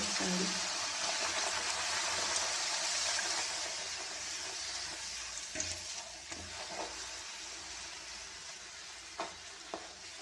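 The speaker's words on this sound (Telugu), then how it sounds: "ఆయిల్ అయితే వేడైంది ఇక్కడైతే కాల్చుకుందాం" Karapusa, a crunchy fried snack, cooking in hot oil with a continuous broad sizzle and a few sharper pops and stirs, close and steady, with faint talk in the background.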